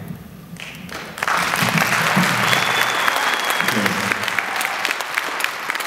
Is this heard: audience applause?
yes